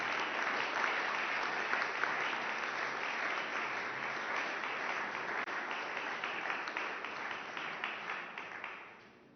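Sustained applause from a press conference audience, dense steady clapping throughout that fades out at the very end.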